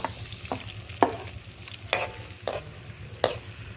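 Garlic and tomatoes sautéing in a hot pan, a continuous sizzle broken by several sharp scrapes and clatters of a spatula stirring at an uneven rhythm.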